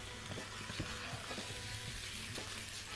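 Egyptian rice with salt is stirred in a pot, close scraping and shuffling strokes repeating over a constant sizzling hiss, with no talking.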